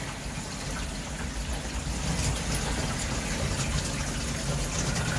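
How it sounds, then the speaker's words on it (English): Water gushes steadily through koi tank filter media during a DIY flush-out, making a continuous rushing, splashing wash at fairly close range with no talk over it. "So as you can see, that's giving that a good flush out"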